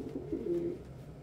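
Pigeons in a loft give a low, soft coo at close range, a brief rolling call that swells and fades within about a second.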